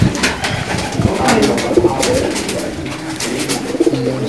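Pigeons kept by a pigeon fancier coo loudly and close, a dense layered chorus of rolling calls running throughout without pause.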